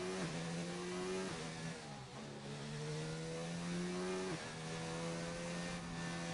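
F1 car engine screams through a lap of Monaco in F1 2019, revving up through rapid upshifts and dropping sharply on braking between bursts, loud and continuous with no talk.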